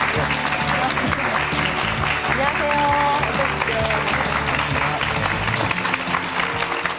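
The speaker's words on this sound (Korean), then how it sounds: "큰 박수로 맞이해 주시죠" Studio audience applause on a Korean television health program greets an arriving guest, a dense continuous clapping that runs throughout while hosts speak welcomes over it.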